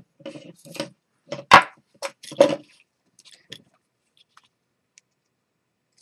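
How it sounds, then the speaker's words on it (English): A knife trimming excess rope on a GoPro securing loop, a handful of short dry clicks and snaps in an irregular sequence, close and crisp, then near silence. "So we'll just take our knife and just cut the excess off."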